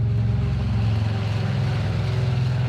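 Steady, droning turboprop aircraft engine hum with a low, constant tonal roar and no change in pitch, heard fairly close.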